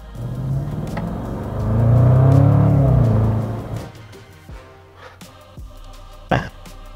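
A Jaguar F-Pace SVR engine roars loudly as the vehicle accelerates, the rumble peaking and then easing off into quieter driving with a few sharp knocks.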